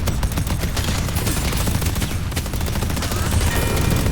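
Automated turrets deployed by the hero McGinnis in the video game Deadlock fire in a dense, continuous barrage of rapid gunshots, loud and sustained without any break.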